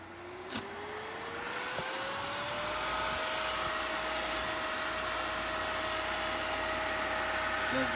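A Pentair variable-speed pool pump running dry on a test start gives a steady motor whine that rises in pitch over the first few seconds and then holds level. A couple of faint clicks come near the start, and the hum stays close and continuous.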